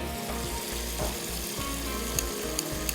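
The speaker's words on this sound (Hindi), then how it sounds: "अब इसको अच्छे से भूनेंगे हम" A paste of ginger-garlic, tamarind pulp and yogurt fries in a pan for dal mash, a steady close sizzle with light scraping stir strokes and soft clinks, no voices.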